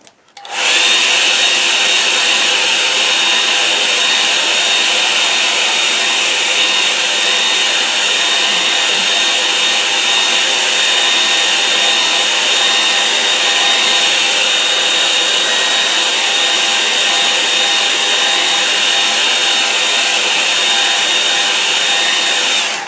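A hair dryer runs continuously for over twenty seconds, drying a watercolour painting, a loud, steady, close whooshing hum that starts abruptly and holds without pause.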